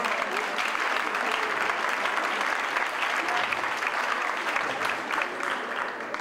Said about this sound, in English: Rhoda, would you please stand up and get applaud once more?